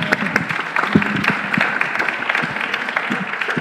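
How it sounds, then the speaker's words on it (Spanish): Audience at a decolonial school lecture in Caracas clapping to welcome a guest speaker, a lively, close round of individual claps with audible separate hand strikes, fairly loud and sustained. "un fuerte aplauso para recibirla"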